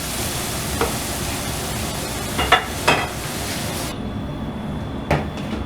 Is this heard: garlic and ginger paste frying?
yes